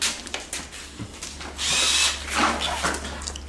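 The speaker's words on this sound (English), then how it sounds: "need to drill a hole in the ends of the straps where we cut it off" A battery power drill whirs up in short bursts, drilling holes in the ends of chair straps on a Brown Jordan Tami-Ami chair with a grinding whine, close by over a low background hum.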